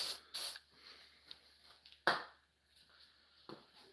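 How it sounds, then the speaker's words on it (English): WD-40 sprayed onto an OEM plug on a Ford Focus ST engine during a timing chain replacement: two quick close hissing bursts, then a longer spray and one more short burst, with quiet pauses between. "I'm going to spray that with some WD-40."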